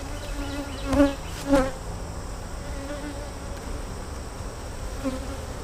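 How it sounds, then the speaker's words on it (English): Honey bees buzz steadily around an opened hive during a split using queen cells, a soft continuous drone with a few closer individual bees swelling briefly past. "I still think we've got field bees in here"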